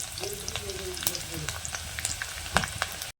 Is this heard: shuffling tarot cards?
no